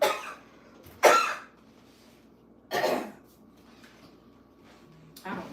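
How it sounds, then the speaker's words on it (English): Two or three harsh, brief coughs from one person, spaced a couple of seconds apart, close to the mic in a quiet kitchen while a chef prepares a salad. "Let me get this cough out."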